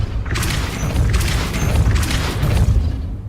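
The Depulso spell fires in the Hogwarts Legacy video game, a loud booming blast effect that swells in several heavy surges across the clip with rumbling low impacts.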